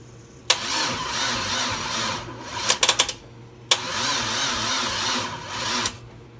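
An LS1-swapped Dodge Stealth cranks on a jump start in two long bursts of steady starter churning, each running about two seconds. A cluster of sharp clicks and knocks sits between them, all close and loud, with no voices.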